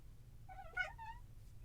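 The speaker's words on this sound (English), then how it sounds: "Cat has joined me in the recording closet again" A single drawn-out cat meow sounds in a small recording closet, close and clear, rising then falling over a low background hum, no speech.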